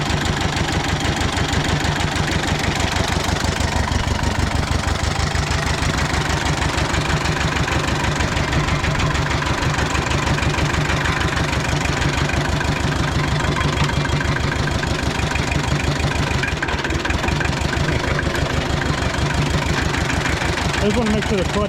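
A Hinomoto tractor engine idles steadily up close, a loud, rhythmic diesel chug with a knocking pulse that holds even throughout.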